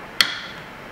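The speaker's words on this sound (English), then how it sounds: "all I have to do is tap the transmitter and the device will record for you" A hammer gives one sharp metallic tap to a Fakopp Microsecond Timer transmitter set into a standing tree, a single bright click with a short ringing tail that fades into quiet.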